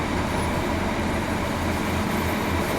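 A Superior 150s train runs along on the coast, its steady rumble and rolling rail noise heard close and loud, unbroken throughout.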